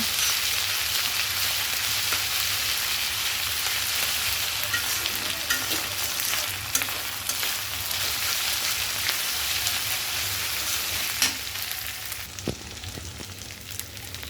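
Ginger-garlic paste fries with onions in a pan for khichuri, a continuous close sizzle with occasional stirring scrapes and clicks, easing slightly toward the end, no talking.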